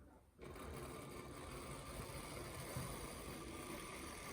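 A PIKO BR 01 model steam locomotive runs along its track with a steady, continuous mechanical whir, close and fairly quiet, starting after a brief moment of near silence.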